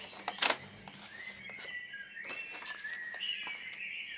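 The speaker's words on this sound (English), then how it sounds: "So this is the birdhouse, and it makes noises." A toy birdhouse gives off electronic bird calls, a run of thin chirps and sliding whistle-like tones that rise and fall over about four seconds at moderate loudness, with a few short knocks near the start.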